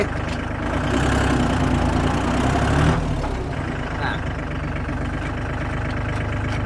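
A used Iseki NT542 42-horsepower tractor engine runs at a steady, close-up idle-like drone that holds level throughout, with a slight swell in the middle.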